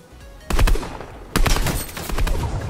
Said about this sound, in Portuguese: Ai, tô levando tiro.